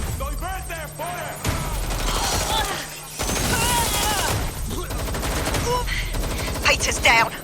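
Rapid gunfire bursts crackle through a Watch Dogs Legion firefight, dense and loud, with repeated volleys, a few booming impacts, and shouted voices mixed in throughout.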